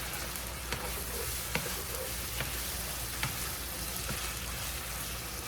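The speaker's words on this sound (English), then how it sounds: "I'm going to let my tomato sauce cook just for a couple of seconds" Tomato sauce simmers in a pan for cabbage rolls, giving a soft, steady sizzle with faint scattered pops and ticks, fairly quiet and with no voices.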